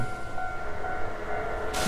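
Train rumbling past in the Japanese video game Hollow Cocoon, a steady low rolling drone with a sustained tonal hum, close and continuous throughout, with no talk.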